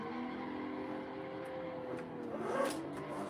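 A car engine revving with squealing tires in a sim drifting video game as the tires are warmed up, a continuous mid-level drone with rising pitch sweeps and a brief louder screech near the end.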